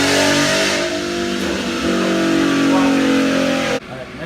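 A tuned 3.7 car engine with mild bolt-ons revs hard on a dyno and climbs in pitch, holding a loud, rising drone before cutting off abruptly near the end.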